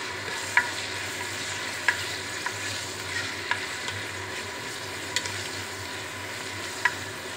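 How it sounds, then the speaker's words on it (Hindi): Onions frying and browning in a pan for a potato and pea curry, a steady low sizzle with occasional sharp clicks of stirring, close and moderately quiet, no speech. "हम इसके अंदर प्याज डालेंगे। अच्छी तरीके से हम ब्राउन कर लेंगे।"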